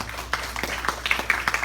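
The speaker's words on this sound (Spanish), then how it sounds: "Dar un fuerte aplauso al rey." Congregation at a sermon applauding for the king, sparse irregular claps from several people, moderately close and fairly quiet, with no talking over them.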